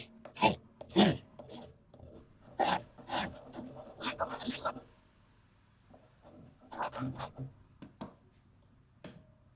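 A carbon rasp and file worked on the wooden body of a Les Paul–style guitar, several short rough scraping strokes in bursts with pauses between, close and moderately quiet.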